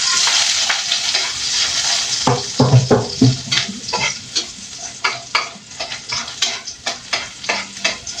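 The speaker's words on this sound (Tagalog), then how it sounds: "sunod ko namang iluto ang ampalaya" Bitter gourd frying in a pan with garlic and onion, a steady close sizzle broken by repeated scraping stir strokes, with rhythmic spatula clatter growing through the second half.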